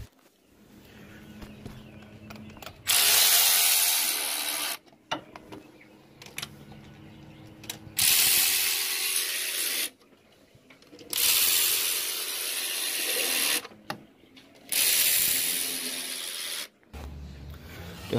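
A ratchet loosens spark plugs on a Chrysler 300 engine in four bursts of rapid clicking, each lasting a couple of seconds, close up, with quiet handling noises in the pauses between them.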